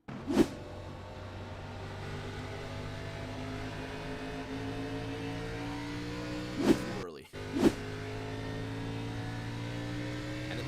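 Race cars circle Richmond Raceway in a sim racing game, engines holding a steady droning whine; three sharp bangs of impact punctuate it, one early and two close together near the end, as one car plows into another.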